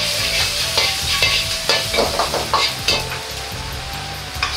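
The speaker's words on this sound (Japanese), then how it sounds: "生姜を香りが出るように炒めていきます。" Ginger sizzles and crackles in a hot wok, with irregular scraping stir strokes and bursts of spattering throughout, no talking.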